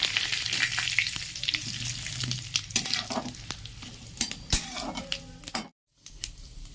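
Two dry red chillies, radhuni, cumin and two bay leaves crackle and sizzle loudly in hot oil for a vegetarian dish, with busy spluttering, spoon clinks against the pan and a brief silent gap near the end.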